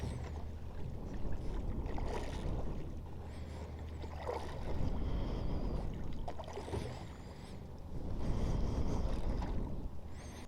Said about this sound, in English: started paddling us across the river